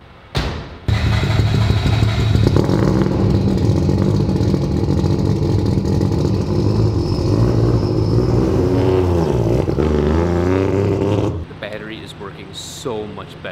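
A 3-rotor rotary engine car runs strapped to a dyno, a loud, sustained droning engine roar that holds steady for about ten seconds, then drops away, leaving quieter clatter and brief sounds at the end.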